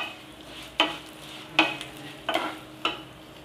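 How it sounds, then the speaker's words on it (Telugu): Semiya vermicelli being fried in a pan over a medium flame, four separate scraping stirs with a soft sizzle in between, close and fairly quiet. "సేమ్యాను చక్కగా ఈ విధంగా గోల్డెన్ బ్రౌన్ కలర్ వచ్చే వరకు వేయించుకోవాలి"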